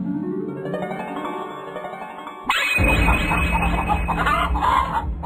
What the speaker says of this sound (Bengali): এক রাতে বুড়ির মুরগিগুলার আওয়াজে ঘুম ভেঙে গেল।